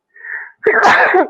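A single close sneeze: a short inhaled lead-in, then a loud, sharp burst that trails off.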